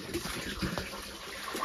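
Water rushes steadily from a mountain spring source in a rural Naga village in Nagaland, a continuous broadband splashing flow heard close up.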